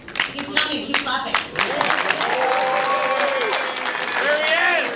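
Film festival award ceremony audience applauding a Best Dramatic Feature winner: a few separate claps and voices at first, then swelling into continuous, full applause with whoops and cheers on top.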